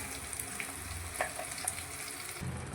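Ground masala for capsicum gravy fries in a pan with a steady close sizzle, while light stirring scrapes and clicks come through now and then.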